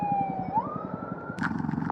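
A fire truck siren wails through a hurricane, its tone sliding upward and holding high over a steady rhythmic rumble of rain, wind and engine. It is loud and fairly close, with a brief horn-like blast near the end.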